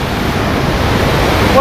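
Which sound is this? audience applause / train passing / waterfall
waterfall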